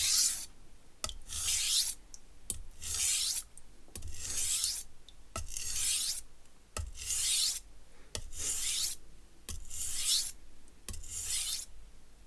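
An asymmetrical-bevel knife is drawn across a whetstone in about eight evenly spaced, rasping strokes. Each stroke gives a soft, close scrape, with a light tap between strokes.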